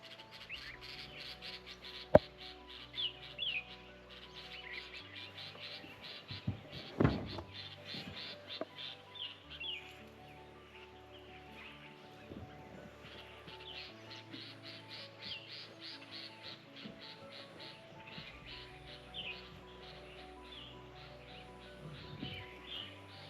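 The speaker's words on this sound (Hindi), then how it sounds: "यहाँ से बर्ड्स की आवाज़ जैसे बुलबुल की सबसे ज़्यादा आ रही थी।" Birds such as bulbuls call and sing in the forest of Jim Corbett's Dhela zone, a quiet mix of chirps and warbling phrases from several birds at varying distance, with a few sharp nearby clicks and no talk.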